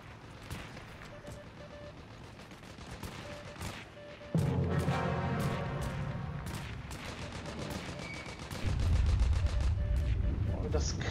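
Rapid gunfire crackles from a World War II shooter game, Heroes & Generals, with sharp repeated shots, then heavier booming blasts building in loudness, as someone talks now and then.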